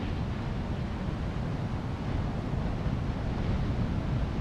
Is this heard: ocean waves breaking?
yes